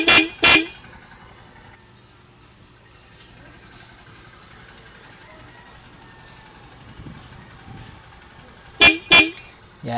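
A car horn wired with a relay in a DIY installation, tested with two short loud blasts at the start and two more near the end, a faint engine idle between them.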